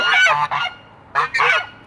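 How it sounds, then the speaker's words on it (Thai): Domestic geese kept at a home with a vegetable garden honk loudly and close by, giving two quick double honks separated by a short pause. "แล้วก็นี่ก็ห่านนะคะที่เลี้ยงไว้"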